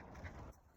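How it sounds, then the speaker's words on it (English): Birds sing outdoors in a natural setting, faint and distant, with a brief soft cooing call in a short, quiet stretch. "the birds singing."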